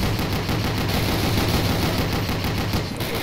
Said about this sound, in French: Ah, j'adore cette mitrailleuse!